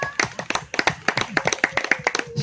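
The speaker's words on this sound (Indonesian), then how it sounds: "Tepuk tangan buat istrinya Mas Dian." A small audience claps by hand at a talk show event, several distinct close claps in an uneven rhythm for a couple of seconds, with a faint voice under them.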